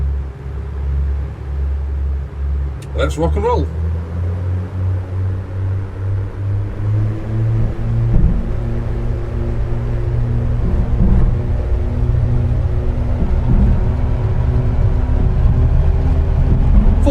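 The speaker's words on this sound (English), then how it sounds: "running up both engines" Both engines of an Aerostar 600 twin in a flight simulator game running up on the ground, a steady low droning hum that builds gradually over many seconds; someone speaks briefly near the start.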